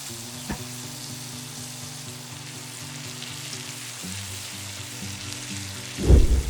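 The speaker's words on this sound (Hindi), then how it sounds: "फिर इसमें मैं डाल रही हूँ 1 बड़ा प्याज इस तरह से स्लाइस किया हुआ और इसको भी फ्राई करेंगे" Sliced onion sizzles and fries in a pan for Indian aloo gobi, a steady close crackle broken by a few stirring knocks, with a louder clatter of stirring near the end.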